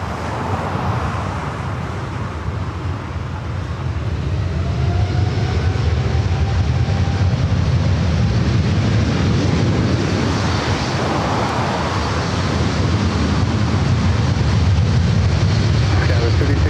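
Boeing 787-9 Dreamliner jet at LAX airport, a steady loud roar of engines building and sustained throughout, with voices talking over it.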